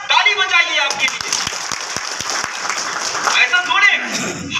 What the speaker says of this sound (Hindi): ताली बजाइए आपके लिए।